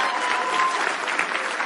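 Audience applause at a presentation, a steady dense wash of clapping from a crowd, filling the whole short stretch at even loudness.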